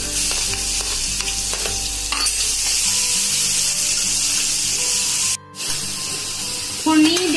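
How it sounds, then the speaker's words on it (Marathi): Hot oil sizzles and crackles steadily as a Khandeshi kadhi tempering of chopped garlic, chilli and ginger-garlic paste is stirred in over low heat, with a brief dropout and a clatter near the end. "म्हणजे आपली फोडणी चांगली कडक बसते"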